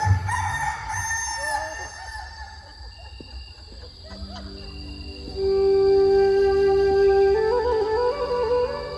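Rooster crowing played as a sound effect during a Christmas and New Year stage skit, a long loud drawn-out crow near the end, with some clucking and background hall noise before it.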